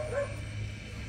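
A dog barks once or twice at night outdoors in a Vietnamese village, short, moderately near yips over faint background noise.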